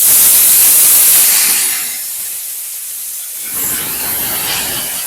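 Potato pieces hitting hot oil tempering over medium heat for a bitter gourd and potato curry give off a loud, close sizzling hiss that eases midway, then flares up again.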